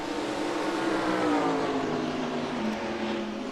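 Race cars from NASCAR Racing 2003 sweep past in a steady, loud drone of engines, pitch sliding downward as the pack moves by, with no talking.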